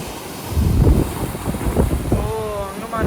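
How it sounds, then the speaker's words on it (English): Sea waves surge and splash against rocks below Sinquerim Fort in Goa, a steady rushing wash with wind buffeting the microphone. "The waves came, it almost splashed till here, you know."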